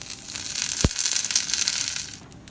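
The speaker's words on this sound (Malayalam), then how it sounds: "ചുവന്ന മുളകിൻ്റെ കൂടെ തന്നെ കറിവേപ്പിലയും കൂടി ഇടാണ്" Red chillies and curry leaves go into hot oil for a cucumber and mango curry. One dull thud as they drop in gives way to a steady, close, bright sizzling hiss without speech.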